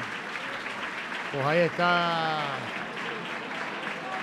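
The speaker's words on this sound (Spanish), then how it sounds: "a Comar Elvira, que recibe el aplauso del público" Spectators at a Canarian wrestling league bout in Fuerteventura clap for the wrestler, a steady wash of applause underneath someone commentator's brief spoken remark.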